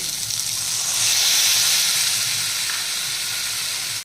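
Water hits sizzling tomato masala in a hot pan and sets off a loud, steady hiss of steam and frying. It stays close and continuous, with no talk, and stops abruptly.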